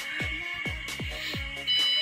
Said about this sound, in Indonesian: Kalau teman-teman mendengar buzzer yang berbunyi, itu adalah ampernya ini over, daya wattnya itu over.